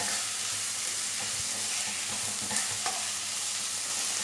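Salted tomatoes stirred in a pan, a dense, constant sizzle of frying close up, with faint scraping knocks from the spoon now and then.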